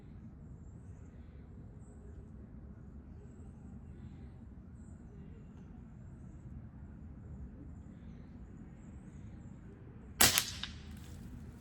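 Air rifle fired at a bullseye target during an air rifle championship, one sharp report near the end after a quiet low background hum.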